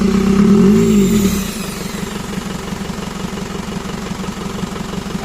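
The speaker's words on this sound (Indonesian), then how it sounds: "untuk mesin sudah hidup, sudah menyala." An Isuzu Panther engine runs close by, with a loud, deep rumble at first that settles into a steady, even mechanical chatter at idle. No one speaks.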